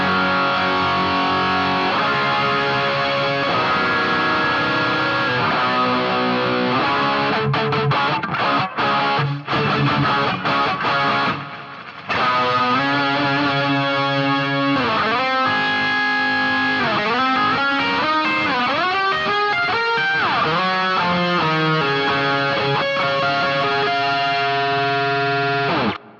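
Electric guitar run through a Boss SY-200 synth pad with delay blended in, sustained shimmering chords and swelling tones ringing out loudly with echoing tails, brief dropouts midway, played alone without talk.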